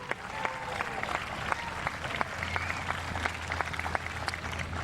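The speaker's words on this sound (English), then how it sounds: "Will you clap as loud as you can for Dr. Vernon Ray?" Scattered audience clapping for an honoree at a tennis Champions Cup event, fairly faint and distant, with individual sharp claps standing out over a low steady hum.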